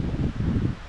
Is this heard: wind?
yes